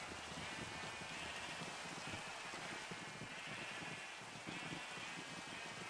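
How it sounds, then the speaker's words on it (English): Rain falls in Minecraft, a steady, quiet hiss of pattering drops with gentle swells and no other sounds over it. "I should get the rain to go away."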